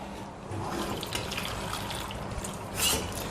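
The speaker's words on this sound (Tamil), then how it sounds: "தண்ணி ஊற்றி, கொஞ்சம் தண்ணி ஊற்றி வேக வச்சிடலாம்" Water splashing and running steadily into a cooking pot of vegetables for sambar, a continuous wet rush with a brief louder gush near the end.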